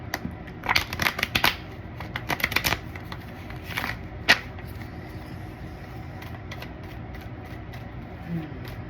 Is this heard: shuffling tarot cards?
yes